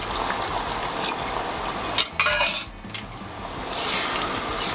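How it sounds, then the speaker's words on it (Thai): Beaten egg poured into a hot buttered pan for stir-fried basil bacon, a loud close sizzle with a brief spatula scrape and stirring, steady throughout. "แล้วก็ ไข่นะคะใส่ลงไปเลย"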